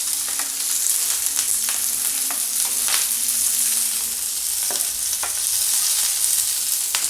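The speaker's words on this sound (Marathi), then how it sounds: "आता मी यात आपले बाकी सगळे टाकलेले शिमला मिर्च ते टाकणार आहे. याला सुद्धा मिक्स करून घेऊया." Capsicum being stir-fried with soybean manchurian, a steady close sizzle of frying with intermittent scraping clicks of a spoon mixing the pan, continuous and without voices.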